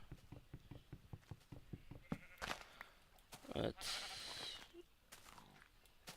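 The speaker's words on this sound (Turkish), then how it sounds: "Şimdi burada koyunlar bizim için çok iyi oldu." Sheep bleat repeatedly in the Minecraft video game, several short game-sound bleats over a quiet clicking rhythm, with a brief spoken word from a player.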